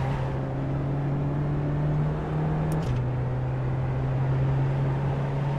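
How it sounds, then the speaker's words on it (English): A Volkswagen TDI Cup front-wheel-drive race car in a game held at full throttle around Silverstone, its engine droning loud and steady with a brief dip in pitch at a gear change before settling into a sustained high hum. "We're going full throttle"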